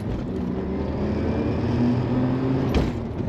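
A 1992 Lotus Carlton engine hums loudly and steadily in first gear, its pitch rising gradually as it accelerates, with a brief whoosh near the end.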